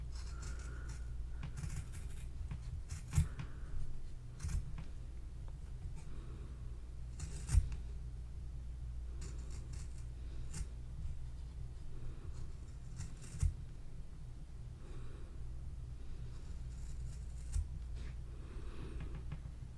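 Scissors snip through paper to cut out a small rabbit's nose, with soft scattered clicks and rustles at close range, a few sharper snips standing out in a quiet setting.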